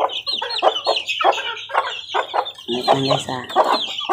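Chicks kept in a homemade cage, with steady clucking and cheeping running throughout at close range while someone talks over them.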